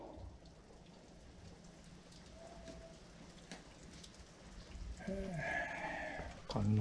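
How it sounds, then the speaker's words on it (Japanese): Rain falling steadily outdoors at a temple in Wakayama, Japan, a constant soft hiss with a few brief louder sounds toward the end. "それでは雨がきつくなってきたのであります"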